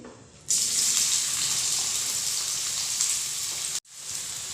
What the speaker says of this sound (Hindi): तो चलिए हम प्याज को डाल देते हैं।